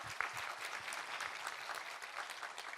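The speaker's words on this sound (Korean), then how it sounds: "우리 하나님께 감사와 영광의 박수 올려드리겠습니다." A church congregation breaks into brisk applause, a dense run of hand claps that stays steady and fairly close for a few seconds.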